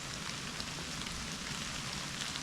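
Rain falls in the woods as a steady, dense hiss of drops pattering nearby, unbroken for the whole moment, with no voices.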